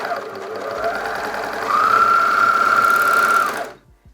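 A sewing machine stitching a folded sleeve seam on a hook-and-eye top, a close, rapid mechanical whirr that speeds up midway into a steady high hum before stopping abruptly.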